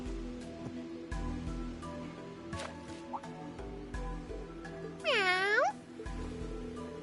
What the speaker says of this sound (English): Oh, it's just a cat.